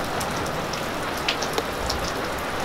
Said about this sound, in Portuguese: A chuva já veio que veio.